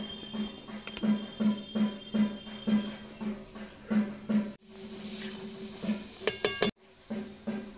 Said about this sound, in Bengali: এবার আমরা যে ঢেকে রেখেছিলাম দ্বিতীয়বার, সেটাকে তুলে নেব।